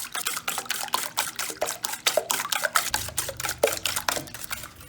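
A utensil stirs milk into frittata batter in a bowl, tapping and scraping in a quick, steady rhythm of clicks close up, with no talking.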